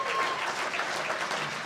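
An audience at a gala event bursting into applause for an announced guest, dense clapping throughout the short moment, fairly close and steady.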